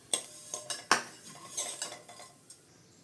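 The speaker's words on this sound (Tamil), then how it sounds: "ஒரு பிளேட்டில் அள்ளிடலாம்" A spoon scoops ghee-roasted vermicelli from a pan onto a plate, producing a series of close, sharp metallic clinks and scrapes with quiet gaps between them, and no talking.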